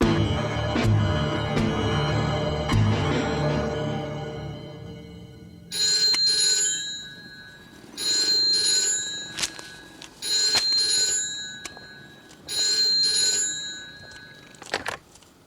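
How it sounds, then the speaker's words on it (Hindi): A telephone rings in a home in repeated double bursts separated by short pauses, clear and close, after a stretch of louder room sound at the start. "रघु का फोन है, आओ।"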